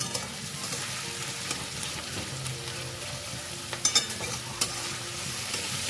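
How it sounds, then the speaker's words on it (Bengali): Onions fry with a spoonful of sugar in a pan, giving a steady sizzle broken by a few sharp scraping stirs, with no talking. "পেঁয়াজটার সাথে এটা একটু ভাজা হলে পরে কালারটা ভালো আসবে।"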